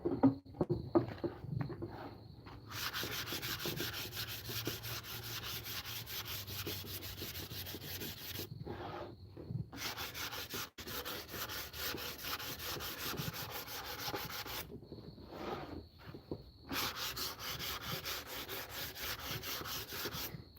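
Wood is sanded by hand with 220 grit sandpaper in long, steady rubbing strokes. Each stroke is a close, even scratchy hiss, broken by brief pauses between passes.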